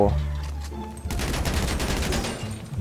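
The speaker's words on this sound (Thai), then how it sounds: "อู้ระเบิดสวยงามมาก" A loud in-game explosion in Free Fire, a deep boom whose crackling debris rolls on for over a second, preceded by a low engine drone.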